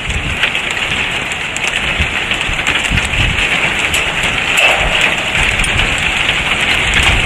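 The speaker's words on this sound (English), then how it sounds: "It's hailing." Hail and rain pour down during a strong windy storm, a dense steady hiss and patter that stays loud and close throughout with no talk.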